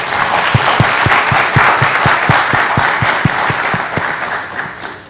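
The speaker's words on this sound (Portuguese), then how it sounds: "Queria pedir só uma salva de palmas aqui para o Tair." An audience claps in steady, fairly loud applause, with a rhythmic cluster of individual claps audible over the broad crowd noise, tapering slightly at the close.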